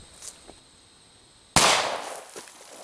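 A single sharp crack from a 9mm Glock 17 firing Winchester White Box 115 grain ammunition bursts out loud and close after a quiet stretch, then decays in a short tail.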